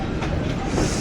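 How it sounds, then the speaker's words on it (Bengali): The Howrah–Amritsar Mail running alongside a local train, heard briefly as a loud, dense rumble of rolling wheels and wind rush from on board with no voices. "ও লোকাল ট্রেনের সাথে চলছে অমৃতসর মেল।"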